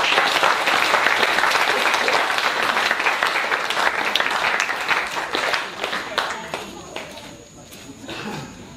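A church congregation at a healing service in Taravao, French Polynesia bursts into dense, loud applause, a sustained roomful of clapping that slowly thins toward the end, with voices calling out over it.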